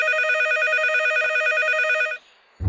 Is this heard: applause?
no